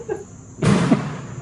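A single sharp bang bursts out in a dark hallway during a paranormal investigation, loud and sudden after a quiet stretch, with a faint, brief knock just before it.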